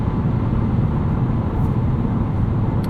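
Steady low rumble of wind and road noise inside a 2020 Honda Civic Si Sedan cruising at speed, a constant dense drone with no breaks and no talk.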